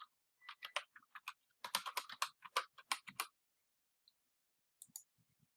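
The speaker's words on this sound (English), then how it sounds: "Type in our password." Someone types a password on a computer keyboard in quick bursts of close, crisp key clicks, pausing briefly before a few last taps.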